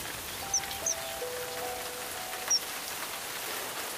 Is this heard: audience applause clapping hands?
no